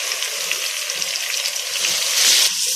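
Ginger, green chilies and freshly added ground tomatoes fry in hot oil, giving a steady, dense sizzle that swells louder near the end, with no voices.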